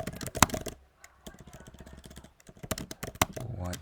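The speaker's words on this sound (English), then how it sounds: "I hope my keyboard is not loud." Clicky keystrokes on a computer keyboard during Swift coding come in quick, uneven bursts with short pauses, close and moderately loud, with no talk over them.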